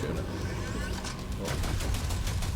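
Cyberpunk gunfire rattles in fast overlapping bursts amid loud game combat noise, close and continuous across the short stretch, with a voice talking over part of it.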